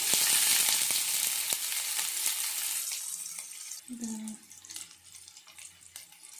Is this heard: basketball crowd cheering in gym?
no